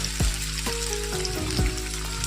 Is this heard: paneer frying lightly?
yes